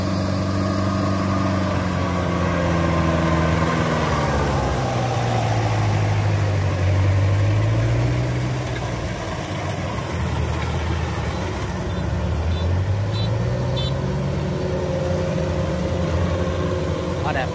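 A Kubota DC93 combine harvester engine runs steadily with a deep mechanical drone, its pitch dipping and rising twice as the load changes, loud and close throughout.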